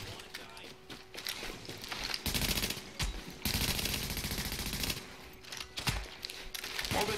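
Gunfire in the online shooter The Division: loud, dense bursts of rapid automatic fire in two sustained volleys, with scattered shots and footsteps between them.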